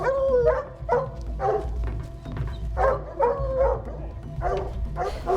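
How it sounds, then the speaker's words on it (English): Hunting dogs bay and bark in a steady, fairly close series of howling barks after catching a mountain lion's scent in the Bears Ears backcountry, over a low rumbling background. "The dogs caught the scent of a mountain lion in late morning."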